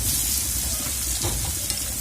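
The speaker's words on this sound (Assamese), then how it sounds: "কেৰাহীত তেল গৰম হৈ গ'ল এতিয়া ইয়াত মই দি দিছোঁ জিৰা এচামুচ এতিয়া দি দিম কাচকলখিনি" Cumin and pieces of raw green banana fry in hot oil in a wok, a dense, loud, close sizzle with stirring scrapes and crackles and no voices.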